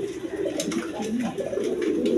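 Indian Bombay pigeons, a pair of round-crested white-beaked birds, coo in soft low rolling bursts that come and go over a steady murmur of background noise, close by.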